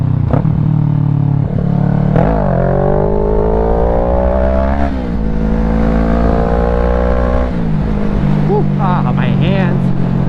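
A Kawasaki Ninja 650 motorcycle cruising through twisty roads, its engine droning loud and steady close by, pitch rising and dipping as the rider rolls on and off the throttle, with a constant rush of wind.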